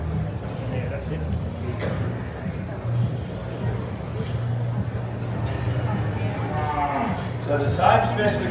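Cattle lowing in a livestock sale ring for purebred light domestic steers, moos rising over a steady murmur of background noise and voices, with a clearer call near the end.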